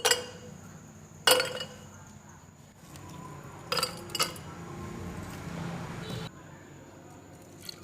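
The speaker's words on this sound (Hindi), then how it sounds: "बर्फ़ डालेंगे जग में" Ice cubes dropped into a jug for chilled falsa sharbat land in a few sharp separate clinks and clatters, with a hushed kitchen background between the impacts.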